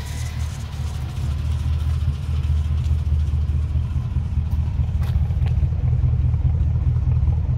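A 1950 Ford two-door sedan's flathead engine runs steadily at a low, rumbling idle, loud and close, with a faint brief voice near the middle.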